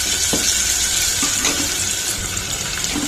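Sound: lentils frying in oil while tempering with tamarind leaves

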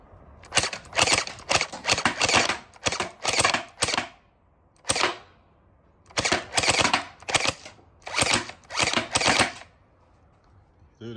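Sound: Gel Blaster Starfire XL toy blaster firing on full auto

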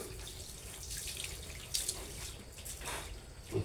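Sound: running water for bathing the piglets

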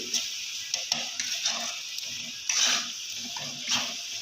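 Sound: sautéing fish masala in oil

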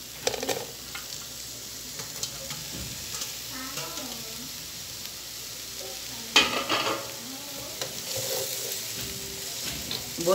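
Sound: vegetables sautéing in a pan for yakisoba

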